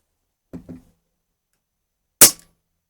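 A sharp, loud single shot from a Snowpeak PP750 PCP 4.5mm air rifle, with its pressure dropping, rings out after a brief pair of soft handling clicks, then cuts off quickly into silence.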